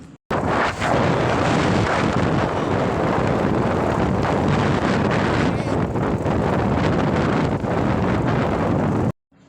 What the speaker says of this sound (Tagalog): maririnig nyo nga sa video ang lakas ng hangin